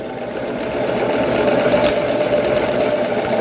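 A sewing machine stitches elastic onto fabric, its steady, fast mechanical whir running close and loud for the whole stretch with no pauses or voices.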